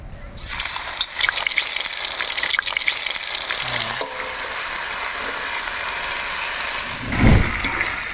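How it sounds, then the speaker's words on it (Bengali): Steady, loud sizzling of cauliflower frying in hot oil, a constant crackling hiss with occasional stirring sounds and no talking. "একই সাথে ওই তেলতে ফুলকপিগুলো ভাজি নেব"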